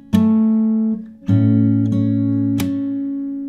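Plucked fingerstyle guitar notes ring out, with a few sharp percussive slaps on the strings punctuating the sustained tones.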